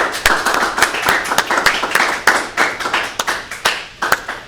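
A small group of people applaud after a team meeting presentation, irregular claps rattling close and steady for several seconds without speech.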